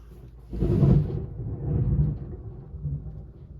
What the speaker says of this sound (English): Oh, did you guys hear that thunder?